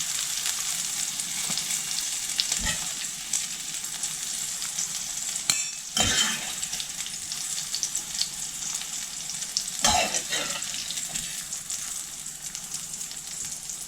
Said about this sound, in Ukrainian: А в цю сковорідку, в якій смажилися сосиски, Додаю цибульку та обсмажую.